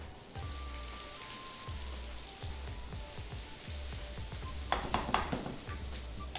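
Chopped onions sizzle and fry in a hot pan for a Khoya Matar Makhana dish, a steady crackling hiss with occasional stirring knocks and scrapes, close and continuous.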